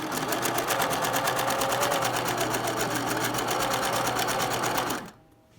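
A Vigorelli maxi8500 sewing machine runs a zigzag stitch with a loud, close, rapid rhythmic chatter that holds steady for about five seconds before stopping abruptly.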